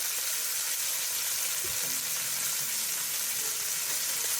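Beef shank pieces browning in olive oil, a steady dense sizzle with a light stir or knock partway through, close and continuous with no talking.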